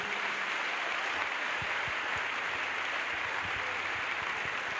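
Faint, steady audience applause from a crowd at a religious crusade gathering in Douala, a continuous distant wash of clapping with no clear cheering.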